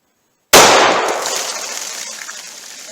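A single close, loud gunshot from a .45 ACP pistol firing Critical Defense 185 grain rounds into a ballistic box cracks out after a moment of silence, then decays in a long ringing echo.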